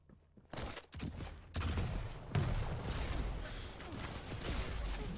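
Bursts of heavy machine gun fire in a Quake match, rapid rattling volleys starting after a brief quiet and continuing densely, loud and close with layered in-game effects.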